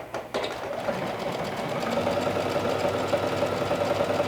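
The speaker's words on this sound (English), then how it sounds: "I'm using my sewing machine because I want to be able to open the seam and press" Sewing machine stitching a seam, a close, rapid mechanical whirr with a steady rhythmic needle chatter that builds and holds evenly throughout, with no talk.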